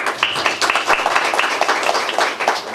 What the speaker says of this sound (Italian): lo salutiamo con un applauso il past governatore del distretto 108 YB Sicilia